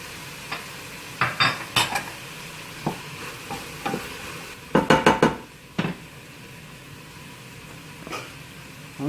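Broccoli, potatoes and onions sizzle in a pan on a lowered heat, with a run of scraping stirs and clattering utensil knocks in uneven bursts, loudest in the middle, over a steady frying hiss.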